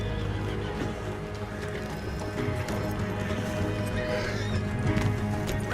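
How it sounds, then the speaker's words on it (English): Horses in the video game Red Dead Redemption 2 whinny and neigh over a steady clatter of hooves, with a dense, busy background of movement throughout. "Let's get to those horses, Morgan!"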